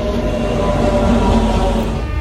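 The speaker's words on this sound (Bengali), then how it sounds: "তো চলে এসছে ট্রেন," The Bhagirathi Express passenger train pulling into Bethuadahari station, a loud, close, continuous low rumble and metallic rolling drone with no voices.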